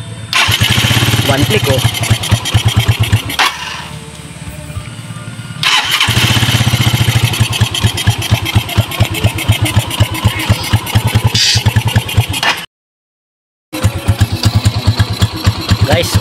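A motorcycle engine with a freshly refitted carburetor cranks, starts and idles with a loud, rapid putter that cuts out briefly, stops, and restarts, while someone speaks over it.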